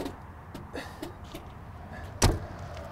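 The rear storage compartment door of a 2023 Newmar Supreme Aire 4051 motorhome swings shut with one firm, close thump near the end, after a few faint clicks and rustles, with no voices.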